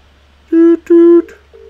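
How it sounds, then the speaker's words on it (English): Telephone dialing tones from the FMV adventure game Contradiction: two long steady electronic beeps followed by a shorter fainter tone, clear and alone over a low background hum. "Oh, there's a telephone there."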